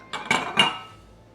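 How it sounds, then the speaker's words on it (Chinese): A scalded glass jar is set upside down on a rack, giving three quick, close, hard clinks that ring out and fade. "就直接给它放在架子上， 给它倒过去，扣在架子上"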